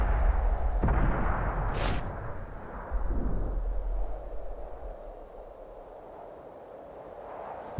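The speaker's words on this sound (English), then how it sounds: "there's one of them rapid-fire scatter guns" Rapid-fire scatter gun artillery in the World of Tanks video game, heavy booming blasts with rumbling low decay and a sharp crack, followed by a fading distant rumble, no talking.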